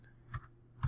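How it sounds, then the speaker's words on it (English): Computer keyboard keys clack twice in quick succession, close to a microphone set right beside the keyboard, with a quiet room behind. "Sorry about all the clacking. I know that now that I see my microphone is right next to my keyboard."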